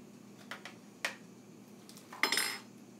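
A few sharp clinks and scrapes of a utensil against a baking dish as apple crisp ingredients are mixed, short bursts spaced irregularly with quiet between them.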